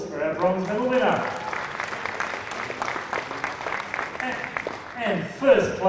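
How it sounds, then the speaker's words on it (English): At a national boccia championship medal presentation, a crowd gives a moderate round of applause for a bronze medallist, clapping in the middle stretch with an announcer speaking before and after. "Big round of applause for our bronze medal winner."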